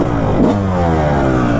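A 2005 Kawasaki KX250 two-stroke dirt bike engine revs loudly and close, with rising harmonic tones and a steady buzzing drone, at an endurocross event.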